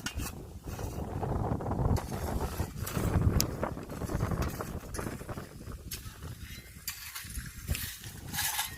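Strong wind blows outdoors during turf planting, buffeting the microphone in uneven, rumbling gusts that swell and ease, fairly faint overall.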